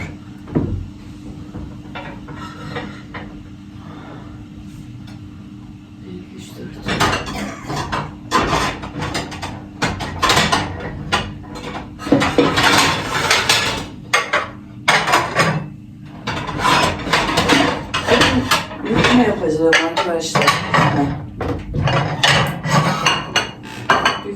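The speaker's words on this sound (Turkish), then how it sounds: "şimdi tabak hazırlayacağım." Plates are set out for a breakfast spread in a home kitchen, with clinking dishes, cutlery and cupboard knocks. The sounds are sparse at first, then become busy, close clattering for most of the stretch.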